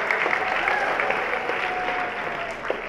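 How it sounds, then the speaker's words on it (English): An audience at a fashion show applauds steadily, a dense, continuous clapping that stays fairly loud before easing slightly toward the end. "Please give a big round of applause for our adults."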